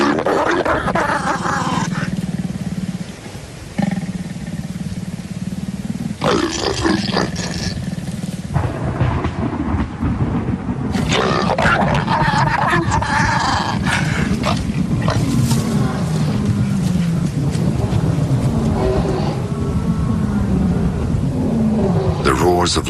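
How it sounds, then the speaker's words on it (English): Lions roaring in the evening in the wild, deep repeated roars and grunts spreading across a long, loud stretch with a continuous low rumble behind them. "The roars of lions disrupt the intimacy of the pair."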